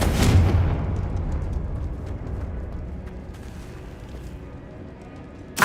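A Confringo blasting spell bursts in Hogwarts Legacy with a heavy, booming explosion that opens loud and low, then rumbles and fades over several seconds before a sharp new hit at the very end.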